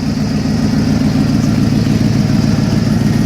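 The engine of a 1990 Ford F250, revived after about three years unused and running on old gas, idles steadily and up close. Its low rumble is slightly uneven and rough, and there is no talking.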